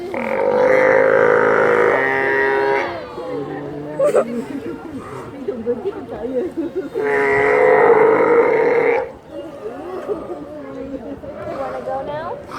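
Steller sea lions at an aquarium let out long, loud, deep grunting and burping calls in two drawn-out bursts, with people chatting nearby in between.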